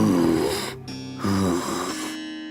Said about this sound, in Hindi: तभी उन दोनों को किसी के सांस लेने की भयानक आवाज सुनाई दी